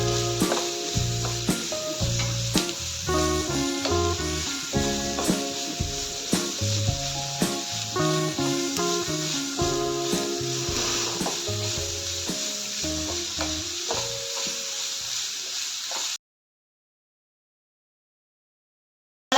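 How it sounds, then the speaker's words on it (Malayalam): Onions sauté in a hot pan for a Kerala-style chicken curry, giving a steady loud sizzle with repeated scraping, stirring strokes of a spoon for about sixteen seconds, then silence. "അതും കൂടി ചേർത്ത് വഴറ്റിയെടുക്കുക"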